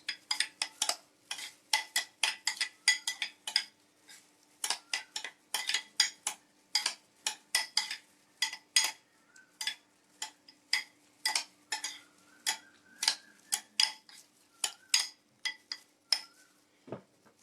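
A utensil scrapes and clinks against a bowl in quick repeated strokes while salsa ingredients are tossed with apple cider vinegar, each stroke distinct and close.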